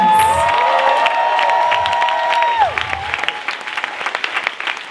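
Audience at a drag show competition at TLVFest in Tel Aviv bursts into loud, sustained applause with cheers and whoops, a whistle cutting through, before the clapping thins into scattered claps.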